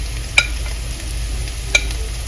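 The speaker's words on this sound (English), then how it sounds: "So let that fry down nicely. It doesn't have to get brown though. I'm just going to add in the chopped ginger, the chopped garlic," Chopped ginger and garlic fry in a pan with a steady, even hiss under a low background hum, broken by two brief scrapes of a spoon stirring.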